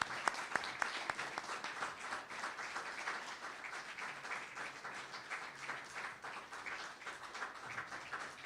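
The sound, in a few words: audience applause for Jared Kwan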